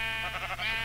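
A single short sheep bleat from the game Minecraft, close and clear with a wavering, nasal tone lasting under a second.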